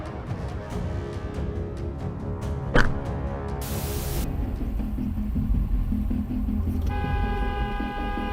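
A single short car horn toot from a dashcam vehicle in a road rage confrontation at a green light, heard over steady engine and traffic rumble.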